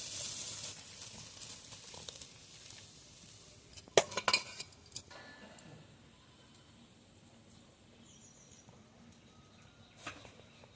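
Cooked aloo dum curry tipped out of the pan, quiet clinks and scrapes of a spoon against metal, with a brief cluster of sharper knocks near the middle and one more later, otherwise faint room noise.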